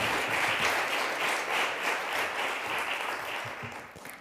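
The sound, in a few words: audience applause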